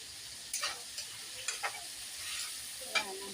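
Garlic sautéing in a pan gives a soft continuous frying hiss with a few faint sizzling pops and stirring scrapes, heard quietly and alone.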